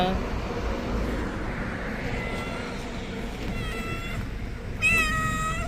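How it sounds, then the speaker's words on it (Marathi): A cat trapped inside a bag beside a highway meows in several loud, strained cries near the end, over steady traffic rumble and someone talking. "मांजरच आहे ना"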